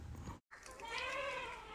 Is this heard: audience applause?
no